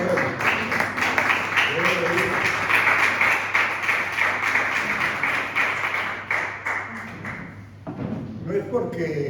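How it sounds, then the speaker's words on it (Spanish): Congregation applause during a Spanish-language church service, dense steady clapping from many hands filling the room for several seconds, with voices and cheers mixed in, thinning briefly near the end before resuming. "Démosle un aplauso al Señor que es palabra."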